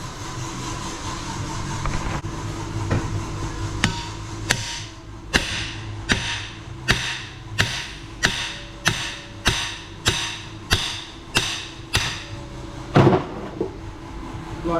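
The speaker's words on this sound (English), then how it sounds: "just with a big lump hammer, one of these, just drive them out" A heavy lump hammer strikes metal about a dozen times in a steady rhythm, driving out MGB engine bearings, each blow a sharp, ringing clank, preceded by quieter mechanical knocks.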